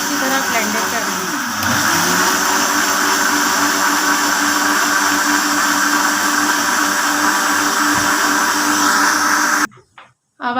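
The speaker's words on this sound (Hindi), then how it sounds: "अच्छी तरह ब्लेंडर कर लें।" Kitchen blender whirring as it mixes a masala soda drink of ginger powder and soft drink, a loud continuous motor drone that runs steadily for about nine seconds before cutting off abruptly into a few faint clatters.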